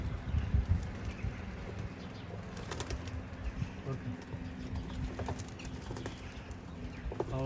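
Pigeons released from their coop before it is cleaned, with scattered wing flaps and light pattering over a steady outdoor murmur, and a faint voice in the background.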